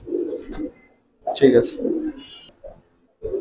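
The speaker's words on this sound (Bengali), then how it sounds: "এটা একটা মাদি কবুতর" A female Giribaz pigeon coos in short bursts close by, with people talking over and between the calls.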